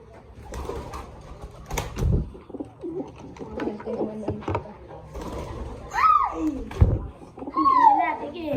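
Pigeons coo in soft, low bursts close by, mixed with wingbeats and fluttering, while someone talks over them at intervals.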